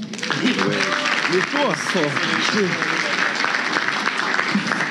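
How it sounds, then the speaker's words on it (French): An audience at a Christian youth talk show applauds in a continuous, fairly loud spread of clapping, with voices and whoops rising over it near the start. "On peut applaudir Alexandre."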